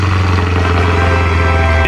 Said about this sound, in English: So let's fire up this car.